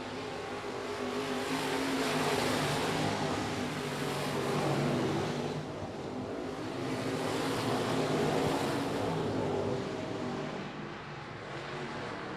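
Modified race cars in a heat race at I-37 Speedway roar continuously around the track, engines droning loud and steady with swells as the pack passes, no talk over the din.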